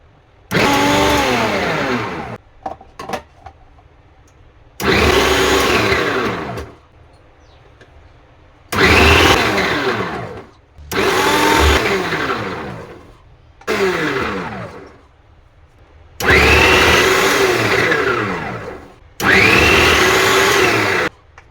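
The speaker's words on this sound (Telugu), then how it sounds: "ఇవన్నీ నేను మొత్తము ఇట్లా మిక్సీకి వేసేసుకొని గ్రేప్ చేసుకుంటున్నా" A mixer grinder grinding beetroot whirs loudly in seven bursts of a few seconds each, with short quiet pauses between them, close up and with no voices.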